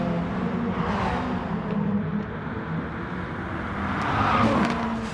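Race car engine and tyres in a racing video game: a steady, fairly loud engine drone that swells slightly toward the end, with no voices over it.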